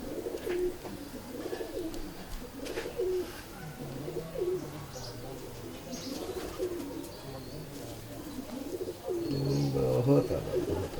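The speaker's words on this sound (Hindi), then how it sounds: "ये मादा है कमगर कबूतर" A female Kamgar pigeon coos in soft, repeated low throaty phrases close by, while someone talks over and between the calls.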